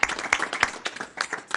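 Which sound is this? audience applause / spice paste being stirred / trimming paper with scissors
audience applause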